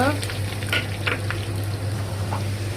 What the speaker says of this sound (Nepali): यो अदुवा लसुनलाई पनि मजाले फ्राई गर्नुपर्छ